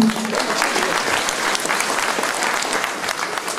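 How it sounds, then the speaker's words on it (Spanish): Dense, steady applause fills a chapel during its inauguration in Santa Catalina Temux Chiquito, Santa Eulalia, Huehuetenango, as a crowd claps continuously and loudly throughout. "Un aplauso."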